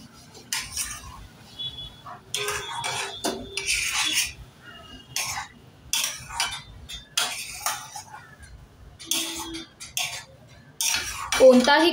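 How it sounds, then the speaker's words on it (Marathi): A utensil stirs mango pulp into sheera in a metal pan, making irregular close scraping and clinking strokes against the pan in short bursts with quiet gaps between. "आता हे छान मिक्स करून घेऊया।"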